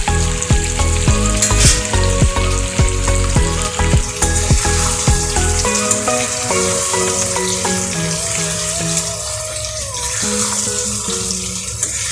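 Loud, continuous sizzling of duck meat and potatoes frying in a pan, with clattering stirring early on that settles into a steadier hiss.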